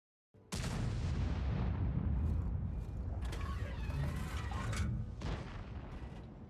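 A single artillery shot in a tank video game, a sudden heavy boom followed by a long rumbling decay with some mechanical clatter, loud and close, with no voices.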